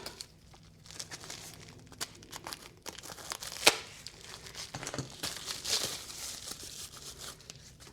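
Crinkling and crumpling of plastic packaging around Turnigy 2200mAh 3S 25C LiPo battery packs being handled and torn open, with a sharp snap partway through; steady rustling close by, no talking.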